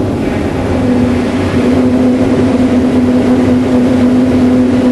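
A steady, loud rush of wind noise from a car roof bar in a wind tunnel at about 160, with a sustained high-pitched whistling tone running throughout, no voices.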